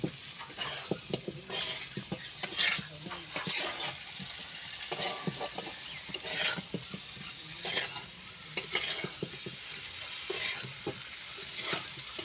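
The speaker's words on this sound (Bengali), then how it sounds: "এইভাবে আমি নেড়ে চেড়ে নেবো" Amra (hog plum) chutney being stirred in a pan, giving a steady run of scraping strokes and soft sizzling for the whole stretch, close and moderately loud, with no speech.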